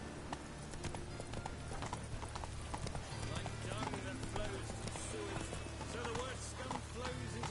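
Roach the horse gallops in The Witcher 3, hooves clip-clopping in a fast continuous rhythm, fairly quiet, with a voice talking over the running.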